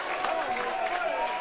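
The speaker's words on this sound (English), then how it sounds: "Gets a clap from the crowd." A crowd at a WAFL football match between Perth and Subiaco gives a brief, moderate burst of clapping from the stands, with a voice speaking over it.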